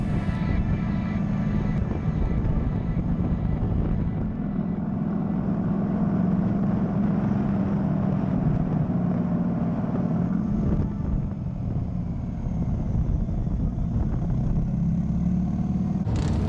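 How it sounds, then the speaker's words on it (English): Motorcycles ride past on a street during the Americade touring rally, heard from the sidewalk as a steady, loud engine roar that swells and eases for the whole stretch with no talk. "we're recording motorcycles going by"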